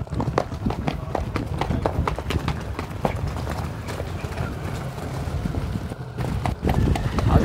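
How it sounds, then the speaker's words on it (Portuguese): Steady clip-clop of Quarter Horse hooves on hard ground at a horse fair in Caruaru, Brazil, a quick even rhythm of sharp knocks close by, with outdoor background noise. "O cavalo tá mostrado aqui para vocês."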